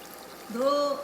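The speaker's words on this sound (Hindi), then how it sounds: "2 कप के करीब मैंने पानी डाला" About two cups of water poured into a cooking pot for chicken shorba, a short gurgling pour whose tone rises as the vessel fills, close and clear.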